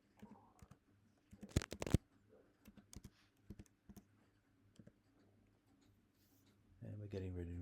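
Password typed on a Mac keyboard, a few quiet scattered key taps and a quick cluster of louder clicks, followed by a person starting to speak at the end.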